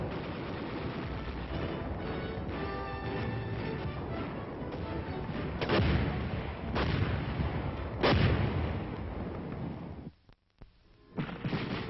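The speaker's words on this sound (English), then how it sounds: "It takes a team of soldiers to fire an artillery piece." An army artillery piece fires, with heavy booming blasts rolling over a constant rumbling battlefield din, the loudest reports landing midway and again toward the end, with a brief drop to near silence between them.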